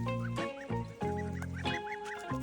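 Goslings call with high, rising peeps repeated in quick succession, close by, over a low voiced murmur on a farm.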